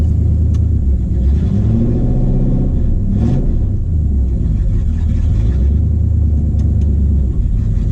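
A 1969 Dodge Dart with a carburetor idles loudly and close, a deep rumbling engine with a brief rev partway through, no talking.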